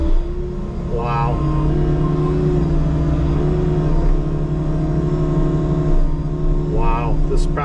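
A Bobcat T76 compact track loader works old topsoil with a steady diesel engine drone, loud and close, with a couple of brief revs and track clatter over the constant rumble.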